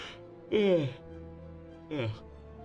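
A person yawns twice while tired late at night during a game livestream: a long, loud voiced yawn that sweeps downward, then a shorter one a second later, both close to the mic over a low steady hum.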